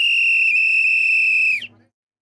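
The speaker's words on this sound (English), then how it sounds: "The referee's going to blow the whistle." At a Portugal vs Croatia World Cup football match, a referee's whistle sounds one long, loud, steady blast that stops abruptly.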